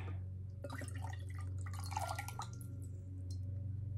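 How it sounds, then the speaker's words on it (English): A drink is poured out of a bottle, a quick series of glugs and splashes that start abruptly and trickle off, over a low steady hum, with no one speaking. "All right, let me pour this thing out here."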